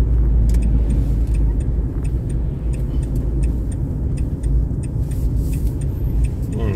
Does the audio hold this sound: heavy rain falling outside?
no